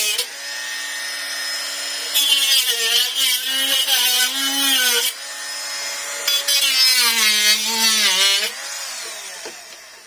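A power tool cuts the end off a strawberry growing tube in two sustained bursts of whining, pitch-shifting cutting noise, with a steady motor drone in between. The sound is close and fairly loud.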